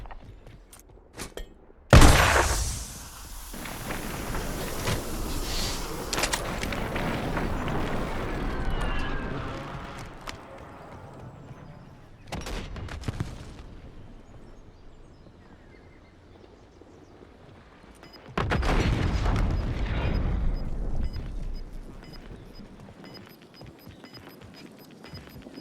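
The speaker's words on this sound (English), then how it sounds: "Enemy airstrike in the area" An enemy airstrike in Warzone hits with sudden loud blasts and rumbling bursts, a heavy impact near the start and another long roaring burst later, separated by quieter stretches.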